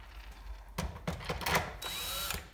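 A power drill runs in several short bursts, starting and stopping unevenly as it drives screws while reassembling a vacuum cleaner, with some clicking between runs.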